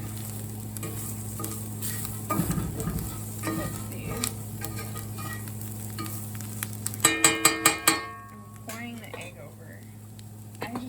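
Kohlrabi sizzles steadily in a frying pan while a utensil stirs and scrapes through it, with a run of sharp clacks against the pan near the end, close up, and a person talking over it.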